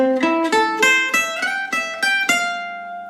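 A gypsy jazz guitar plays a quick rising minor arpeggio of about eight plucked notes from a solo, bright and close, ending on a ringing note.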